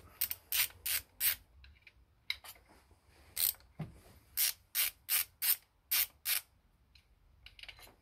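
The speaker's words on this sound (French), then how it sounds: "On va les dévisser un par un." A ratchet wrench clicks in quick bursts while backing out the side screws on a Peugeot 2008 1.2 PureTech engine, a dozen or so short rasping ratchet runs, close and crisp against a quiet workshop.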